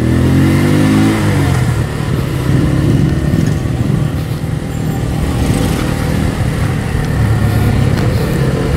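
Benelli Motobi 152 motorcycle with an overbored short-stroke engine revving, a loud, steady mid-pitched drone rising and falling slightly throughout, close by with no voices.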